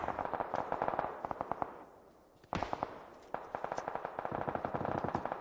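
Rapid automatic gunfire in PUBG on Xbox One, fast bursts of shots with a brief pause in the middle, then another sharp volley, loud and close with echo.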